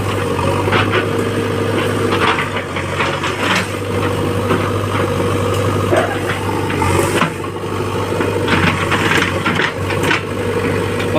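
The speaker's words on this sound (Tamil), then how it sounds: "ஜேசிபி வந்து ஒர்க் பண்ணிகிட்ருக்கு." A JCB excavator works in a village setting with a steady low diesel drone and idling rumble, broken by intermittent clanks and scraping bursts, fairly close and without talk.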